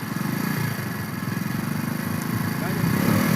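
A motorcycle engine runs and revs unevenly as someone learns to ride, a chugging mid-level rumble rising near the end, with people talking over it.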